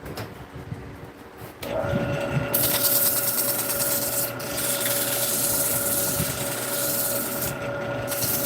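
Abrasive rasping against a large wooden bowl spinning on a lathe, a steady loud broadband rub holding from about 1.7 seconds to the end over a constant motor hum, after a quieter start.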